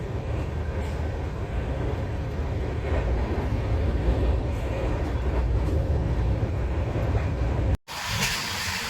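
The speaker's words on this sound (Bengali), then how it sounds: "আমাদের কৃষ্ণনগর রানাঘাট লাইনে ট্রেনের স্পিডটা দেখুন, 110টাকে মেনটেন করছে কিভাবে, দারুণ টানছে গাড়ি।" Humsafar Express running at about 110 km/h on the Krishnanagar–Ranaghat line in India: a steady, loud rolling rumble and rattle for nearly eight seconds, then a brief dropout and a shift to a brighter, hissing tone.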